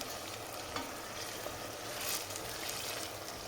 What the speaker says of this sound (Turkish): Böyle ben altına bol soğan kavuruyorum.